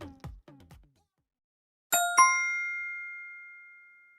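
A notification bell sound effect after a few short spoken syllables, two bright ding strikes in quick succession ringing out clearly and decaying slowly over about two seconds.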